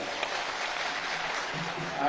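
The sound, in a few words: audience applause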